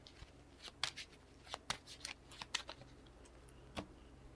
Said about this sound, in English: Gain a card here and shuffle.